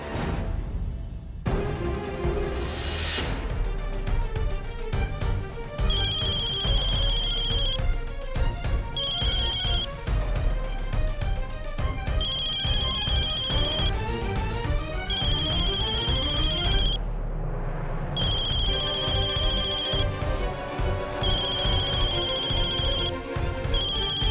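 A telephone ringtone plays almost nonstop for over twenty seconds, a loud, bright repeating electronic melody with brief gaps between rounds, heard in a Marathi TV drama scene.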